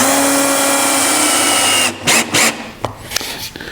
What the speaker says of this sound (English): when I'm drilling in the screws, I'm watching it so they are just deep enough